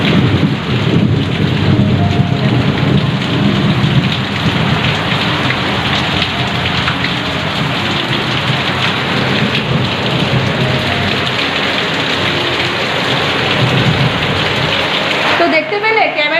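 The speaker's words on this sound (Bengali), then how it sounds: "বাইরে বিচ্ছিরি পরিমাণ বৃষ্টি হচ্ছে, সাংঘাতিক যাকে বলে" Heavy rain pours steadily outdoors in a thunderstorm, a dense continuous roar of drops with low rumbling underneath, loud and unbroken before cutting off near the end.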